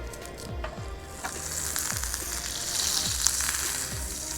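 Butter sizzles steadily in a hot cast iron skillet, a close, dense, even crackle and hiss with no voices.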